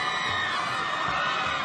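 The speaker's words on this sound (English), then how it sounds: "Raucous crowd brought by Voorhees." A raucous high school football crowd of Voorhees fans at the 2017 NJSIAA championship against West Essex cheers and shouts loudly and continuously for a short burst.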